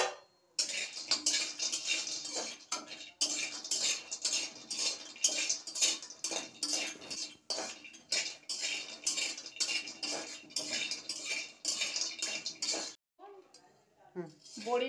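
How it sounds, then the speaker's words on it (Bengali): Lentil dumplings (bori) fry in hot oil in a kadai beside fried fish, a steady close sizzle broken by repeated metallic clinks and scrapes of a utensil against the pan, with a brief quieter gap near the end. "এখন আমি বড়িটা ভেজে নিচ্ছি।"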